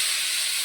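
Green chillies and tomatoes sizzle in a hot pan for a spiced corn dish, a loud, even hiss filling the short moment with no voices.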